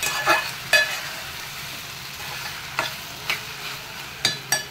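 Mandeli fish frying with turmeric in a pan for a Mumbai-style recipe, a soft continuous sizzle broken by several sharp spatula scrapes and stirs at irregular intervals, close and moderately quiet, with no talking.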